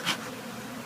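Honey bees buzzing inside a bay window, a low steady drone held at a constant level throughout, with a short brighter sound right at the start.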